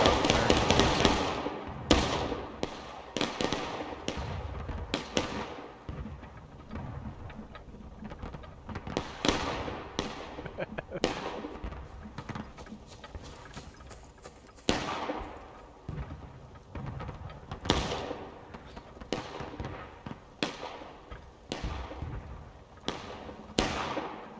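Artillery cannon fire in the Civil War battle game War of Rights, heard as a long run of booming blasts that are irregular, some close and loud and others further off, with crackling shots between them and no talk.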